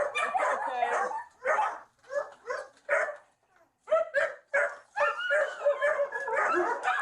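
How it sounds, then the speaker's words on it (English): Several dogs inside a house bark, yip and whimper in short excited bursts separated by brief pauses, close and fairly loud, with no clear talk. "All these dogs."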